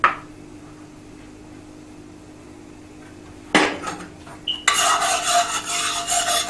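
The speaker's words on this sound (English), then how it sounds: "So we want to stir it so it won't burn." A spoon scrapes and clanks against a cooking pot of smothered chicken being stirred to keep it from burning, quiet at first, then a sudden burst of metallic knocks followed by continuous busy scraping.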